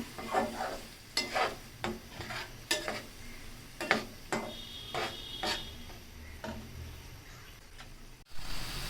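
Dried fish with garlic and chilli powder sautéing in a pan, heard as a soft background sizzle under repeated rhythmic scraping and knocking of a spatula stirring the pan, followed by a louder clatter at the end.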